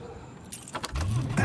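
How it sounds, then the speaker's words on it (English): Car keys jingle briefly before a car engine turns over and settles into a low, steady idle, close by, with no voices. "How about you start by turning the car on?"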